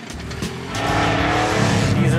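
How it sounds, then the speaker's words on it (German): A car engine revs hard and then pulls away, its loud rising roar building into a sustained drive with a faint squeal of tyres, while a voice talks over the start. "Drehzahl anheben und los!"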